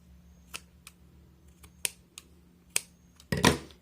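Scissors snip through leftover yarn while finishing a crocheted amigurumi giraffe's tail, a few sharp close clicks spaced apart, ending in a louder cluster of quick snips.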